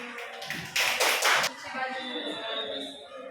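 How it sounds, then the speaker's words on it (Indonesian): A short burst of hand clapping from a small group indoors at a classroom work-practice session, lasting about a second, mixed with talking voices. "Tepuk tangan."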